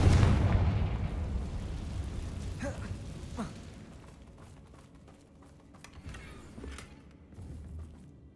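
A Confringo spell explosion in Hogwarts Legacy opens with a loud, deep boom and rumble that fades over several seconds into a low residual roar, with faint crackles.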